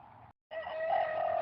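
A chicken clucks close by, a short call, a brief pause, then a longer run of throaty clucking.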